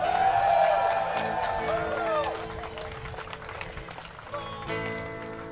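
Clapping and cheers from an audience welcoming a guest on stage, heard under music and fading over a few seconds.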